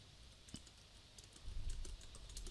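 Typing code on a computer keyboard, a quiet run of soft key clicks that grows busier and a little louder partway through, with no voices.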